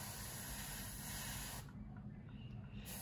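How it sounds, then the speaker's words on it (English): Airbrush spraying black paint onto the propeller of a 1/48 Tamiya P-38 model airplane: a steady close hiss that cuts off about halfway, leaving a faint hum, then a brief hiss again. "I'm going to take straight black and I'm going to spray right down here at the bottom"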